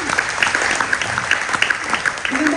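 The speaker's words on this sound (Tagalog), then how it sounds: "Sa pangapong malakas na palakpak para sa ating Panginoon" A church congregation at a morning service claps together in a dense, lively round of applause, close and sustained, with a few voices mixed in beneath the clapping.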